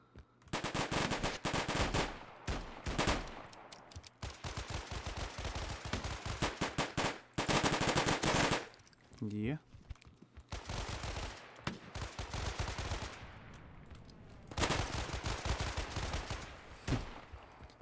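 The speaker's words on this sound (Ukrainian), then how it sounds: "Нас тепер намагаються закидати з усіх можливих пушок." Gunfire from many weapons in the video game ShatterRush: dense, overlapping machine-gun bursts and shots that come in waves with short gaps, fairly quiet overall and with no talking.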